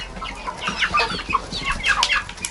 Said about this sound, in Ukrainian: Це півник.